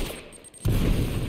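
Gunfire in the video game Uncharted: Drake's Fortune, a loud burst of shots that starts abruptly partway through and keeps going densely to the end after a quieter lead-in.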